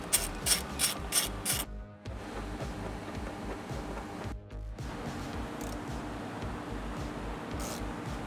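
A ratchet works on the corner bolts of an Audi TT car seat, with quick bursts of close, crisp clicking early on, then steadier rattling turns and a brief pause.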